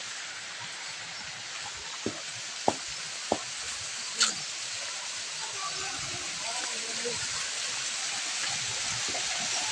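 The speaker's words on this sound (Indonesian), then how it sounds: "Ini adalah air terjun dari pegunungan apa ya, Naga?" Steady broadband rush of a small mountain waterfall flowing continuously, with a few brief clicks and taps near the start and people talking faintly in the background.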